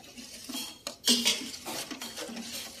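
A spoon stirs buttermilk mixed with half a small spoon of baking soda in a pot, giving soft repeated scrapes and light metallic clinks at a steady, close rhythm.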